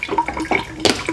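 Cooking water poured off blanched broccoli and cauliflower that were cooled in ice water, splashing and trickling in short close bursts.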